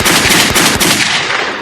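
Loud, rapid bursts of gunshot sound effects, close and continuous, with sharp repeated cracks like machine-gun fire over a dense roar.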